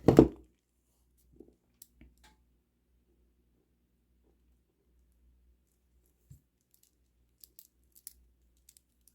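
Scissors snip string for a kandi cuff in one short, close cut at the start, followed by near silence and a few faint clicks and small handling noises.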